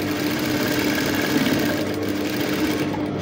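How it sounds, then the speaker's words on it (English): Sewing machine stitching the seam of a structured dress with boning, a steady close mechanical whir that runs continuously with no talking. "So I'm just sewing the other side also because I want to see that seam line there."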